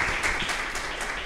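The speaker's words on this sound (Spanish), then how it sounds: "Démosles acá un fuerte aplauso a nuestro hermano" Audience applause at a church gathering welcoming a brother named Sergio Ferreira, a steady, moderately loud wash of clapping for just over a second.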